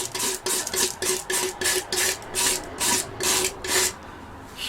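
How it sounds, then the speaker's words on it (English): A palette knife scrapes oil paint across a palette in about ten rhythmic, rasping strokes, close and loud, each a short gritty swipe with brief pauses between. "Scraping out a place to mix."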